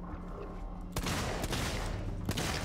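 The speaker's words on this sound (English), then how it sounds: "Just shoot them." Gunfire in the survival horror game Alien: Isolation, several sharp shots cracking out loud and close over a dense, rumbling in-game background, with two distinct bursts a little over a second apart.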